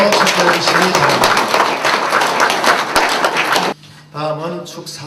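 Loud, dense applause from the crowd at a Busan Gijang inauguration ceremony, steady clapping for several seconds that stops abruptly before a voice speaks over a faint hum.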